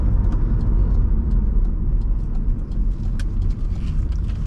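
A 1992 Mitsubishi 3000GT SL with a transverse V6 and front-wheel drive is heard from inside while turning around, giving a steady, close engine and road rumble with no speech.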